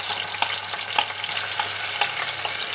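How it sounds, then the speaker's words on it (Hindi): Ginger-garlic paste sizzles steadily in hot oil with cumin for a Punjabi dhaba-style urad dal fry, a continuous loud crackle with frequent sharp pops and spits, no voices. "अब हम इसमें ये अदरक लहसुन का पेस्ट डालेंगे।"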